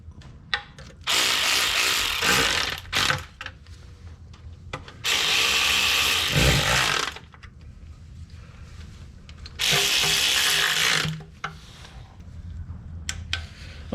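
Transmission pan bolts on a 2003 Dodge Ram 3500 5.9 diesel snugged up with a power tool, in three loud bursts of a few seconds each, separated by quieter clinks and handling noises.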